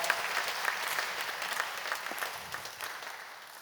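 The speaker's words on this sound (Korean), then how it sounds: "여러분께 박수로 환영하시지요" A church congregation clapping in welcome during a service, moderately loud applause that gradually thins and softens.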